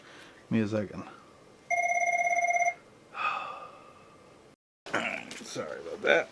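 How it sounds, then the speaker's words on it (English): An office telephone rings in one short burst of bright electronic trilling, fairly close, between stretches of a person's breathing, gasping and brief talk in a quiet room. "That's my office phone, so when it rings, it's important."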